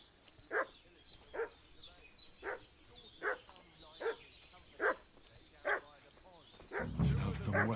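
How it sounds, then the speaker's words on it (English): Repeated dog barks in the video game Kingdom Come: Deliverance, about eight evenly spaced sharp barks at moderate distance, followed by a louder burst of rumbling noise at the end. "What's that dog making such a fuss about?"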